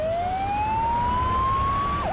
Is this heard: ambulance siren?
yes